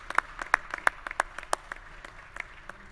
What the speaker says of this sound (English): Can you please give a round of applause for your family and friends?